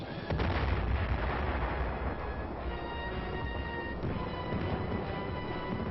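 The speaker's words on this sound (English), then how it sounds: "Aiding the infantryman in his dangerous mission are the mortars and the artillery, which bring down a curtain of death just in front of the advancing troops." Army artillery and mortar fire rumbles in a dense, continuous barrage of overlapping booms and blasts at moderate distance, heavy and unbroken throughout.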